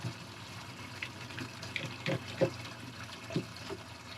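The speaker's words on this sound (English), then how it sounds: "I can always keep the hose just flowing in here." A garden hose runs water into a small jon boat, giving a steady low rush of flowing water with occasional splashy gurgles, close and quiet, with no voices.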